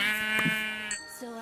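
A sheep in Minecraft bleats close and clear, two short wavering calls in quick succession with no talking over them.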